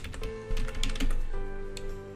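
Keys clatter on a computer keyboard as an essay title is typed, a quick run of close, crisp keystrokes with a few louder taps, over a steady low hum and no voices.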